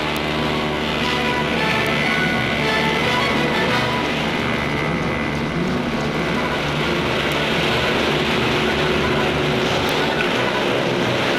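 A continuous, steady engine roar with a droning whine from four hydroplane racing boats holds at constant loudness, with no breaks or voices.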